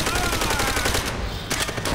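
Rapid gunfire from a World at War Call of Duty shooter game, fired at barrels in a tunnel, loud and continuous bursts over a dense battle din with no pauses.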